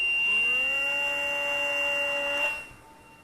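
A MinimumRC Micro Spitfire warbird RC model plane flies overhead with a thin, steady electric motor whine that holds its pitch for a couple of seconds, then quickly fades out as the plane moves away.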